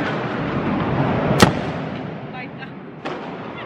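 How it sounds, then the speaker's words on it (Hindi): Diwali firecrackers going off outside: two sharp, loud bangs about a second and a half apart, over a constant broadband rumble of distant crackling. "Kuku अभी अंदर है क्योंकि उसको बहुत डर लग रहा है बाहर पटाखों से"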